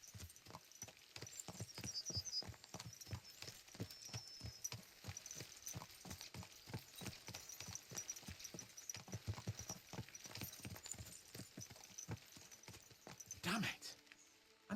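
Galloping horse hooves thud in a steady clip-clop rhythm while riding in the video game Kingdom Come: Deliverance II, fairly close and continuous, with a brief louder rush near the end.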